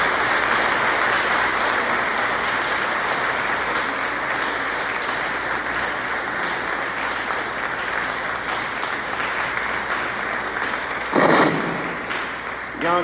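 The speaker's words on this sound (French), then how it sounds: "Et si on applaudissait la Vierge Marie pour terminer" A church congregation applauds at the end of an Assumption Mass, a dense, steady wash of clapping that fills the space for about eleven seconds, with a brief louder burst near the end.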